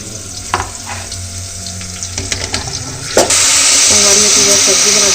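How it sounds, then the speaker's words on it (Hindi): Vegetables sizzling and frying in a pan over a clay chulha stove, with scattered clinks and stirring scrapes early on, then a loud, steady frying hiss that swells and holds close up. "सब्जी में डाल के थोड़ा सा मैं भून लेता"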